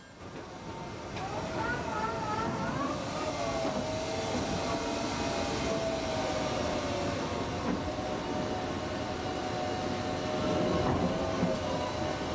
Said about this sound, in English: The towing locomotives are nicknamed the lock mules